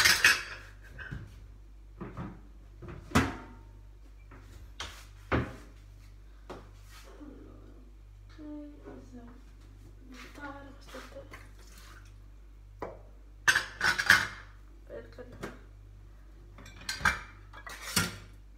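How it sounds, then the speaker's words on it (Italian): Dishes being washed by hand: scattered clinks and clatters of plates and cutlery, with light drips of water between the knocks, fairly quiet and close, with no talking. "nel frattempo mi lavo i piatti"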